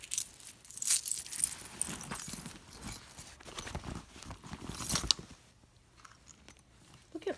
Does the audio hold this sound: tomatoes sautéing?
no